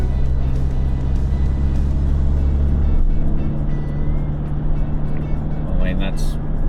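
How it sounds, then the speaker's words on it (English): Mitsubishi Triton towing a caravan accelerates on the road, a loud, steady engine and road drone with wind noise filling the cabin and rising slightly near the end. "I'm going to now accelerate up to 80"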